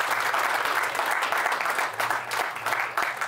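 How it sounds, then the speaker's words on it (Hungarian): An audience at a lecture event claps steadily and fairly loudly in welcome, a continuous wash of applause with slight swells and dips. "egy nagy tapsa lesz."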